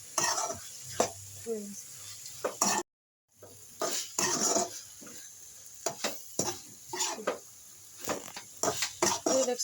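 Egg stirred into a dish cooking in a pan, with repeated scraping strokes over a soft sizzle, broken by a brief silent gap near the three-second mark.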